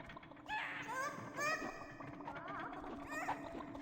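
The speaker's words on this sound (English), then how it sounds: "Chickens." Chickens in the game Dungeon Keeper Gold cluck and squawk in several short, rising calls spread across the moment, heard over a steady low game-ambience bed at moderate volume.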